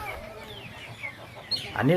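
Chickens cluck on a farm in Bohol, soft scattered calls building to a louder, close burst at the end.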